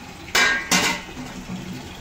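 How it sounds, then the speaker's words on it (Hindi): Household pots and vessels being set down, two sharp clattering clanks in quick succession, then a quiet room. "इतने पानी भर रहा है, एकदम से बर्तन लगा रहे हैं,"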